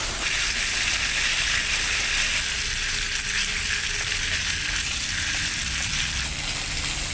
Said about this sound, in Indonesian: Ini adalah semi bakar jagung.